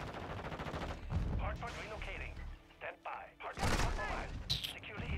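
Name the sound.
gunfire in a first-person shooter video game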